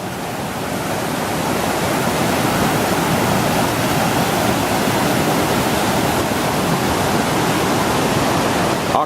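Tunnel Brook rushing hard along its channel, a loud, dense and unbroken roar of water that holds steady for the whole stretch.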